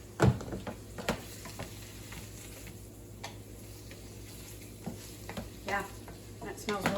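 Ingredients for a turkey casserole, seasoned with sea salt and black pepper, sizzle quietly in a pan, with a spoon stirring and scraping in intermittent clicks and clatters.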